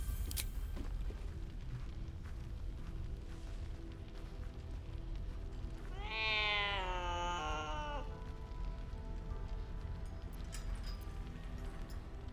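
A cat meows in the video game Baldur's Gate 3: one drawn-out, wavering meow partway through, heard over a steady low game ambience.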